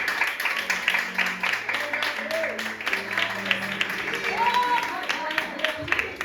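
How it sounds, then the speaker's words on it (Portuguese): Church congregation applauding at an evangelical preaching service, a steady wash of clapping for several seconds with voices and sustained tones beneath it. "dê uma linda salva de palmas ao Senhor Jesus"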